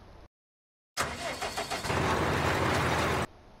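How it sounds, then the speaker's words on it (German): Lindner tractor pulling a seed drill, its diesel engine a loud, steady broadband roar that cuts in abruptly after a brief silence, with some irregular knocking early on before settling into an even drone. "Ja, das war ein Lindner-Traktor mit einer Sämaschine hinten dran."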